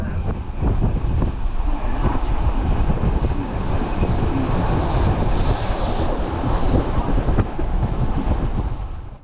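A Bernina Express train on the Swiss Albula and Bernina railways rumbles along the tracks, loud and close, with steady clattering of wheels and wind rushing past the microphone.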